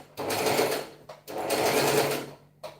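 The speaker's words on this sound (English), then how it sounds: "I'm gonna be stitching half in, not really." A sewing machine stitches interfacing into fabric in two steady bursts, with a short pause between them and a brief restart at the end, loud and close with no talking.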